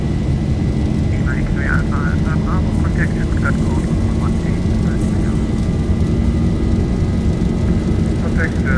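Boeing 737-800 jet engines roar steadily at takeoff power in the X-Plane 11 flight simulator, a loud continuous rumble with whining tones, while voices speak intermittently over it.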